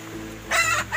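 Rhode Island Red chickens in a coop, a close, loud clucking call rising out of a steady background hum.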